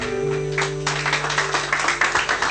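A church congregation applauds during a sermon by Bishop Elie Lisiki. Bursts of close, loud clapping swell over sustained keyboard chords that hold underneath.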